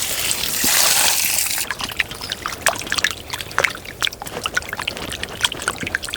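Tap water splashing onto raw chicken pieces being washed in a kitchen, with a strong rush at first, then lighter trickles and irregular wet clatters as the meat is handled.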